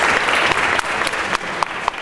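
An audience at a congressional debate at Mission College applauds, with steady, dense clapping that carries through the whole stretch, a few sharper individual claps standing out near the end.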